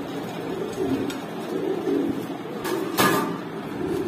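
A pair of racer pigeons from a loft cage coos steadily in low, rolling phrases, with a brief scraping knock near the end and a soft background hum.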